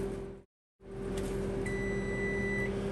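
A convection oven in an RV kitchen gives a single sustained electronic beep once preheated, over a steady fan hum that briefly cuts out beforehand.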